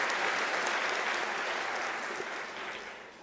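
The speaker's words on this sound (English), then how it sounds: "that deserves a round of applause" Sustained applause from a large audience at a University of South Africa graduation ceremony, dense steady clapping that fills the hall and slowly tapers off toward the end.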